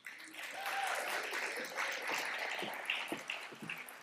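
An audience applauds at the SOCAP23 Justice Innovation Prize pitch competition as the presenters come out, with dense, steady clapping that holds for several seconds.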